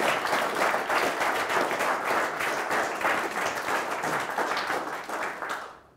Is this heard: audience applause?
yes